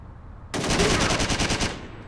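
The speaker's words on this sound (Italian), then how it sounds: "Ecco, appena davanti c'è uno che ti spara." Enemy gunfire in the Driver 3 video game: a loud, rapid burst of automatic shots starting abruptly and rattling steadily for over a second before stopping, close and dense.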